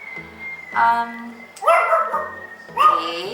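A dog barks and yips in short, close bursts, three loud calls spaced about a second apart, with whimpering tones in between, heard indoors and alone.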